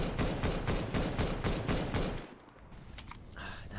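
An auto sniper rifle fires in the video game Counter-Strike on the dust2 map, a rapid string of loud cracking shots over a busy rumble, then quieter tapping and distant game sounds.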